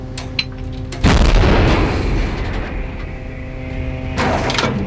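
A Bohdana self-propelled artillery gun fires a single shot with a deep, powerful boom close by, its rumble rolling on for seconds over a low engine hum.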